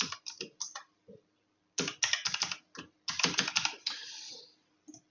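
A password is typed on a computer keyboard in short bursts of quick, crisp key clicks, separated by brief pauses and ending with a single late tap.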